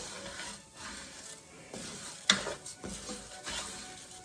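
Rice pilaf being stirred in a pot as it toasts golden brown, with faint scraping and shuffling of grains and a single sharp utensil clink against the pot partway through, quiet and close.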